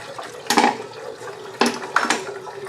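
Fluid pouring from the drain plug of a 5th gen Ram 2500 6.7 liter during service, a close, splashing liquid stream with a few louder gushes, no talking.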